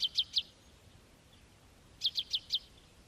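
European goldfinch singing in the El Meddad forest of Algeria: two quick bursts of bright, high chirping notes, three then four, separated by a pause over a quiet background.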